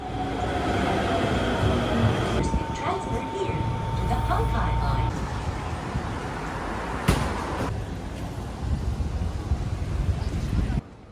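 Steady rumble and rattle of an Osaka subway train in motion, with a brief tonal whine and clunks, muffled voices faintly under the noise.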